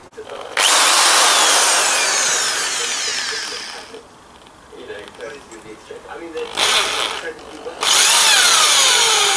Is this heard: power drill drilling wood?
yes